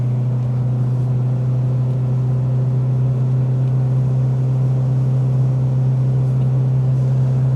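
A Seat 850 Sport Coupé engine pulls hard uphill, a steady loud droning hum held at high revs without pause.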